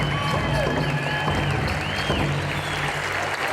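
Crowd applause at a pow wow grand entry at the 2016 Shakopee Pow Wow as eagle staffs are carried in: steady, moderately distant clapping and cheering mixed with a constant hum and crowd noise.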